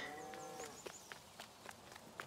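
Cows lowing on a farm, several drawn-out moos overlapping at moderate distance, with light knocks and clatter between calls and no talking.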